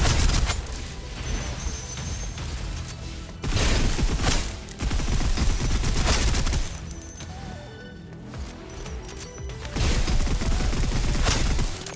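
Sustained suppressive gunfire in a military video game, loud and dense rapid bursts of automatic fire with crashes, running continuously with brief shifts in intensity.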